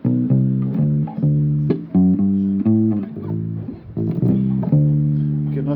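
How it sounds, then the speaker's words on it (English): Guitar arpeggio exercise with a passing note, plucked clearly and alone, individual notes ringing out in a steady repeating pattern across several bars. "This one's got more of a arpeggio use with a passing note"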